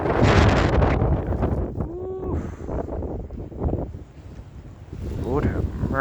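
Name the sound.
wind blowing snow in a Boston blizzard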